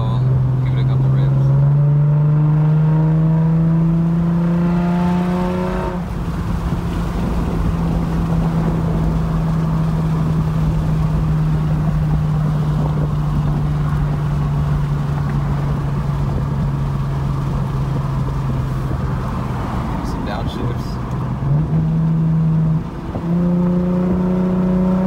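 A Lexus IS350 sports sedan with an aftermarket exhaust drones loudly at a steady pitch, briefly rising and dropping as it revs, heard from inside with the windows down and wind noise.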